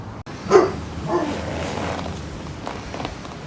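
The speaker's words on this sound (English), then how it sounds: "the dog next door is carrying on" A dog next door barks, with one short burst near the start and fainter yelps after it. The barking sounds muffled and moderately distant against steady indoor background noise.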